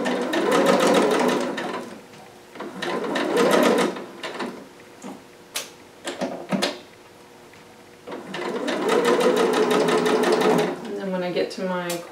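Sewing machine stitching a 5/8 inch seam with a back stitch, close, rapid whirring bursts separated by pauses with clicks and handling, plus faint whining.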